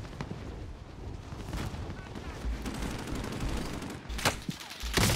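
Gunfire crackles through a shooting video game, with dense, continuous rapid shots and loud bursts filling the whole stretch, layered with other game noise.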